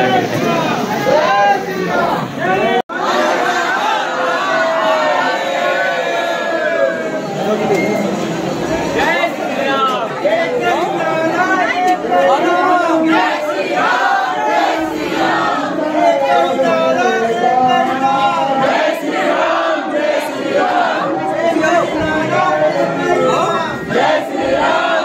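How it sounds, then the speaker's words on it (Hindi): A dense crowd of pilgrims at Hanuman Garhi temple in Ayodhya, a loud continuous hubbub of many voices with chanting and calls rising throughout, close and surrounding. "देखिए कितना भीड़ है यहाँ पे।"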